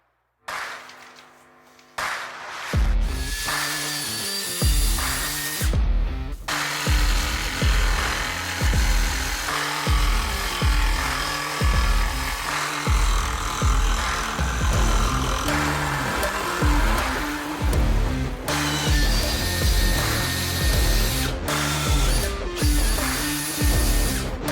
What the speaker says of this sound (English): put this on the floor and start drilling holes